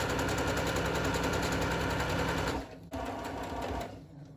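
A sewing machine stitches a tote bag seam with French seams, buzzing rapidly and evenly up close, then stopping abruptly partway before a quieter stretch of handling noise and a brief restart.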